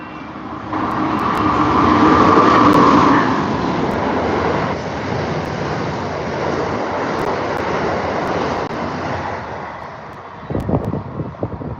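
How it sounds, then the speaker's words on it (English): An Amtrak train passes Secaucus Junction, New Jersey as a loud, sustained broadband rumble and wind-like rush that swells early, holds steady, then gives way to a few rattling knocks near the end; no voices. "That was definitively Pennsylvania train number 43"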